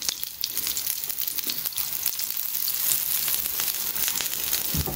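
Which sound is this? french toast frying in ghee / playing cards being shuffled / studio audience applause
french toast frying in ghee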